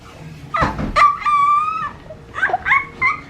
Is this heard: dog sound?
yes